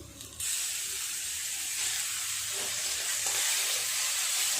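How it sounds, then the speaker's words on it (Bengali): Onions sizzle in a pan with a bright, constant hiss that starts abruptly and stays loud and steady throughout, close up. "পেঁয়াজটা আর একটু নাড়াচাড়া করে ভাজা করে নেব"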